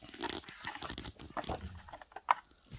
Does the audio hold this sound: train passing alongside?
no